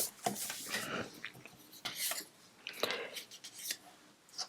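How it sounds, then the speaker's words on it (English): Scissors snip through patterned cardstock during card making, several quick close cuts in uneven bursts with a light papery rasp, no talking. "I'm just going to trim this one down."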